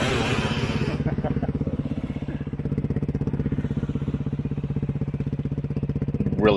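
A dirt bike engine chugs in a fast, even pulsing idle near the listener, holding steady before a brief rev lifts at the very end; no talk.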